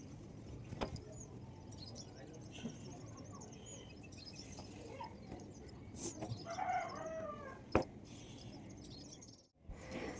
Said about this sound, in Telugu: ఎందుకంటే అక్కడ పక్షులు అవన్నీ అరుస్తున్నాయి.